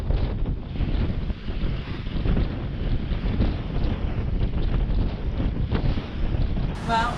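Wind gusts hard across a reefed sailboat at sea ahead of a weather front, a steady loud roar buffeting the microphone with rushing water beneath, continuous throughout.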